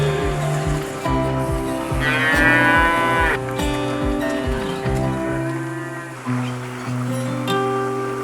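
Cattle in Burua village moo loudly and close by, with several long drawn-out calls over a steady low background drone.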